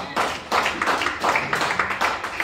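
An audience at a 60th birthday celebration claps in response to a spoken-word poetry performance. Brief, moderately loud bursts of applause rise and fall in a few uneven waves.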